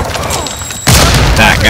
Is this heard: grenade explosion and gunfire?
yes